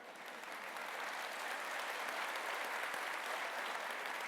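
Audience applause from a friendly crowd at a talk on religion and politics, a dense, sustained clatter of many hands that swells slightly and holds steady, heard from a distance.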